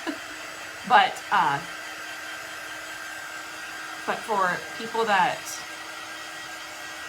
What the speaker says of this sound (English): This is just like it's like a hair dryer.